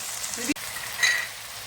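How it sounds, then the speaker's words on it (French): A mix of vegetables and meat sautéing in a pan gives a steady, close sizzle with one brief clack of a utensil partway through. "Je vais faire revenir tout ce mélange de légumes, la viande"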